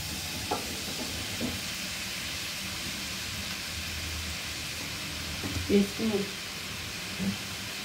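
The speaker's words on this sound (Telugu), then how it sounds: "ఆ తర్వాత వెంటనే కాకరకాయ ముక్కలు కూడా వేసుకోవాలి." Pieces of bitter gourd fry in a hot pan, giving a steady broad hiss and sizzle with occasional soft stirring knocks, close by, while a voice speaks faintly underneath.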